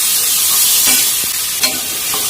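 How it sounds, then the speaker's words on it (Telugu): Tempering seeds and dried red chilies frying in hot oil, a loud close hiss and crackle with a couple of quick utensil scrapes and taps. "బాగా ఫ్రై చేయాలి"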